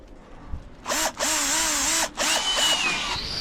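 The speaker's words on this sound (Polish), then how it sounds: "zobaczcie jakie wkrętarki zrobiliśmy, mój pomysł taki" Cordless drill driving screws to fasten mesh on a building site for a hall: two loud whirring bursts of roughly a second each, with rising and falling motor pitch and a short gap between, close by, no talk.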